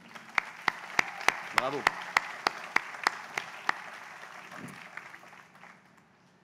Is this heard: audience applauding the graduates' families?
yes